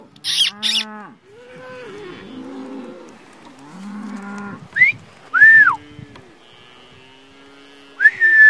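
Cattle moo in Irish farmland, several drawn-out, fairly loud lowing calls one after another, with short sharp whistles breaking in between them.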